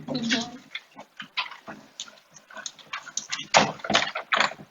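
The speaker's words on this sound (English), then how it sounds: "We've got Alfie here, who is trapped in here, otherwise he is likely to escape" Alfie, a dog shut inside to keep him from escaping, whimpers and snuffles in short repeated bursts close by, with intermittent scuffling between.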